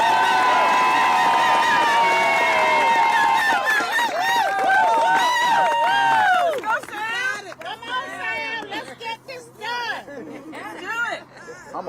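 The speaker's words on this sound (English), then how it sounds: "I need the loudest round of applause yet for our candidate for City Council at large, Sam Johnson" A crowd at a Columbia City Council at-large candidate's press conference cheers for candidate Sam Johnson with loud whoops and shouting voices, which fade after about six seconds into scattered chatter and murmuring.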